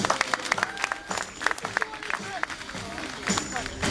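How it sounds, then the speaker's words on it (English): Crowd clapping at a sheep show, scattered uneven claps mixed with a lively hubbub of voices and background noise, fairly close and moderately loud over a few seconds. "So let's have a big clap for our next sheep now."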